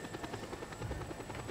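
Helicopter going down in the Just Cause 2 video game, its rotor chopping in a steady rapid rhythm with an engine drone beneath, fairly quiet and continuous with no talk.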